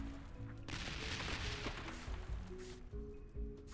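A cannon fires in the video game Hammerwatch 2, with booming shots and crashing impacts over a constant layer of game music and ambience, and no voice.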